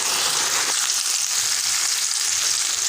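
Sorrel being stirred as it cooks with peanut powder, a steady broad sizzle and frying hiss with soft scraping of the mix, continuous and close throughout.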